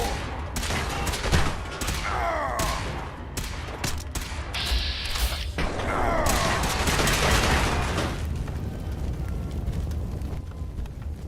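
Sustained gunfire in a Fallout 4 combat zone, a dense barrage of overlapping shots and bursts that keeps going for several seconds, loud and close, with no talking.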